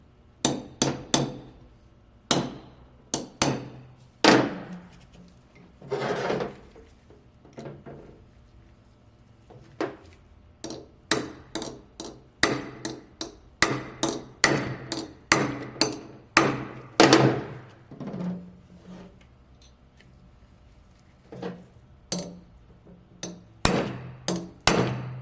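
A hammer drives a chisel in sharp repeated strikes to loosen a ring gear on a RAM 1500 9.25 limited-slip differential. The blows come close and loud in uneven bursts, separated by short pauses.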